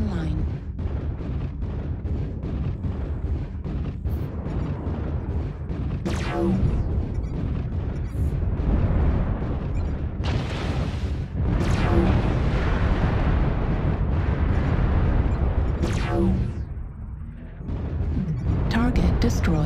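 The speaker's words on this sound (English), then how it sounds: "Airstrike online." Airstrike explosions in a video game's Frozen City map land as repeated deep booms and bursts over a dense rumble of battle noise, with a voice speaking in the game.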